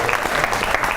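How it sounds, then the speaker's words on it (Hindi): Brief burst of studio audience applause welcoming guests on a comedy talk show, a steady wash of clapping lasting about a second. "बहुत सी तालियां होनी।"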